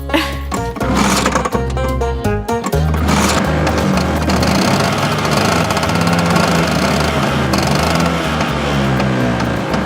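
A scooter engine runs loud and close with a steady, buzzing mechanical chatter that holds its pace throughout, with no talking over it.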